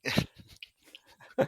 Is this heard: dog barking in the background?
yes